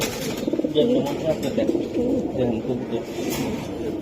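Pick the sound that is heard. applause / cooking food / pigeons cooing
pigeons cooing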